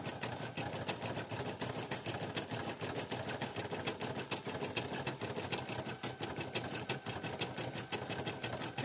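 An embroidery machine stitches felt pieces with a fast, even mechanical clatter that runs continuously at moderate volume.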